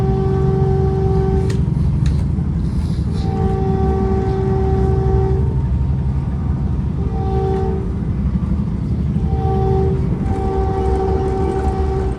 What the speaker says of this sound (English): That's a southbound local train making all the stops to Tamian Station in San Jose.